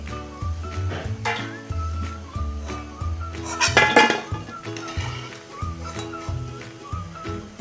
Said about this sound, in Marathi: बघा आता ही भजी मी काढून घेते